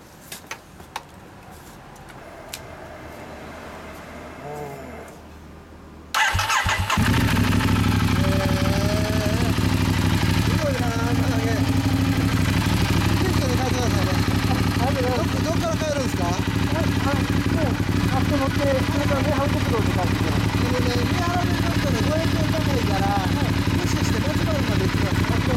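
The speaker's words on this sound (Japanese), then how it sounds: "エンジン音聞かせてもらえますか。" A 2012 Ducati Diavel AMG Special Edition motorcycle fitted with a Zard exhaust starts up after a quiet stretch, then settles into a loud, steady, deep idle up close, with people talking over it.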